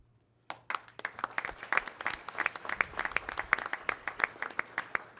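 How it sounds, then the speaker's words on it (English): An audience applauding at a school board meeting, a modest crowd clapping steadily and close, starting abruptly after a brief silence and continuing evenly. "I'm going to ask you to hold your applause until the end"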